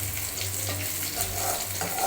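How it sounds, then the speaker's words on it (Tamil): Ingredients sauté with tamarind in a pan for ranagali leaf thogayal, a steady close sizzle and frying crackle with faint stirring scrapes and no voices. "சேர்த்து ஒரு கொஞ்சம் நல்லா வதங்கி வரட்டும்."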